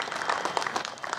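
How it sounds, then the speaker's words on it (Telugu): Brief burst of audience applause at a ghazal poetry gathering, a dense, steady patter of many hands clapping. "ఈ గజల్ మీరందరూ గట్టిగా చప్పట్లు కొడితే నేను రాసిన గజల్ వినిపిస్తాను"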